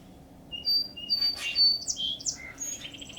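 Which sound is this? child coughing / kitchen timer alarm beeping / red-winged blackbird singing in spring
red-winged blackbird singing in spring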